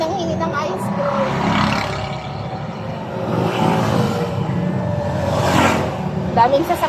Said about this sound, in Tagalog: Daming sasakyan talaga pag sa highway